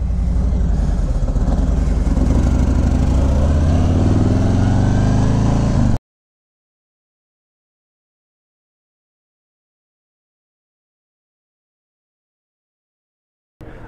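A 2019 Harley-Davidson trike engine runs loud and close, a steady deep motor rumble with a slight rising rev for about six seconds before cutting off to silence.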